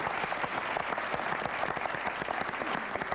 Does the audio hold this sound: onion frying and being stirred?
no